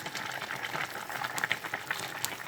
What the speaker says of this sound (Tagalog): Kumukulo pa siya guys. Kulo ng kulo.